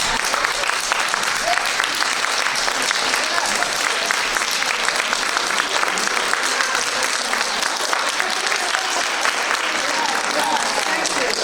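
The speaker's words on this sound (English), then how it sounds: "Let's give everybody in the world a hand clap and ourselves." Steady, loud applause from a large audience, dense clapping that carries on without a break throughout.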